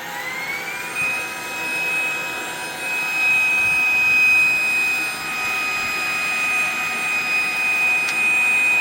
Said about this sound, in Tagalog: ang ganda nitong vacuum na to. Talagang malakas humigop